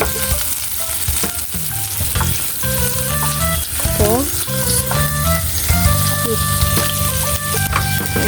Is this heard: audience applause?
no